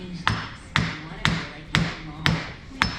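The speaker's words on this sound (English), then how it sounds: "You don't want to use a metal hammer, you want to use a rubber mallet." A rubber mallet taps a seal and front cover flush, six evenly spaced dull thuds about half a second apart, close and solid, each followed by a short decay, with faint background hum.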